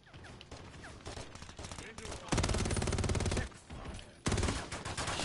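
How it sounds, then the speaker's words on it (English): Gunfire in Call of Duty: MW3 multiplayer, rapid automatic bursts rattling in several long strings with brief gaps between, loud and close. "Ooh, somebody was shooting me."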